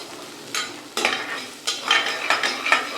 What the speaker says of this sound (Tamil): இதை வதக்கலாம் இப்போ சின்ன வெங்காயம் சேர்த்துக்கிறோம்